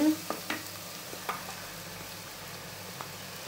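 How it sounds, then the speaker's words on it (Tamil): Small onions sauté in a pan for a river catfish curry, giving a quiet, steady frying sizzle broken by a few light scrapes and taps of stirring. "அந்த வெங்காயம் அது சின்ன வெங்காயம் அதையும் இதில் போட்டுடணும் போட்டு ரெண்டையும் ஒன்றா நல்லா வதக்கணும்"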